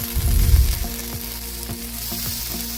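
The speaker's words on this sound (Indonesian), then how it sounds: "Dan sambil dibolak-balik cilok bakarnya" Cilok tapioca balls brushed with spicy mercon sambal grill and get flipped over on a hot surface, a close burst of sizzling at the start easing into a steady low crackle with a few soft turning taps.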